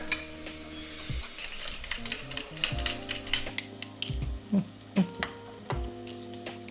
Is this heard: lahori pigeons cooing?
no